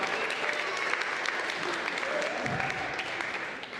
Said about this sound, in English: Another round of applause for them all.